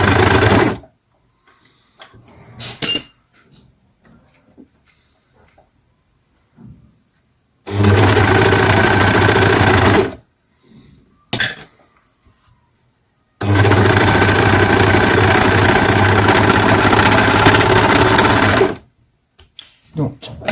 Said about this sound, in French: je vais venir faire mon surjet sur le côté